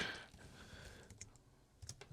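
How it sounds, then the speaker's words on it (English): Keys on a computer keyboard are tapped in a quiet room, a soft, close, irregular patter of clicks with a few sharper strokes and no voices. "I'm spelling a little slow here just because I'm typing this in"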